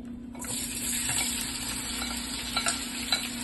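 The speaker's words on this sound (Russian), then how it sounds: "Обжариваем лук, включаем вытяжку." Onions frying in a pan for Uzbek plov while the range hood runs, a continuous close sizzle and crackle over a steady fan hum, with occasional stirring clicks.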